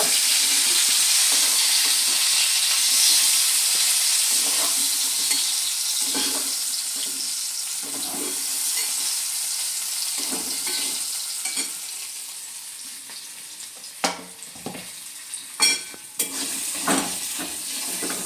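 Continuous hiss and crackle of cauliflower frying in oil, with occasional clinks and scrapes of a utensil stirring, growing sparser toward the end.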